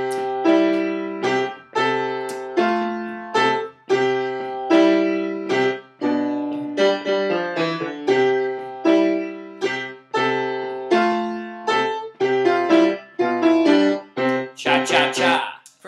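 Jazz piano plays about eight measures of a tune, crisp chords and melody notes in a bouncy cha-cha rhythm, close and solo with no talking.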